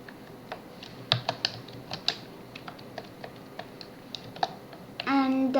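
Keys clatter on a computer keyboard in a quiet room, with irregular light clicks and a few sharper taps scattered over several seconds before a short burst of speech at the end.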